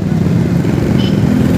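Steady stream of vehicles climbing an expressway on-ramp onto a boulevard in Pasay, with loud, close engine rumble and road roar sustained throughout, no voices.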